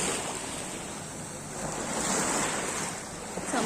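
Strong ocean waves wash onto a beach in Masbate, a continuous broadband roar swelling and receding, mixed with wind buffeting the microphone, loud and close, with no talk.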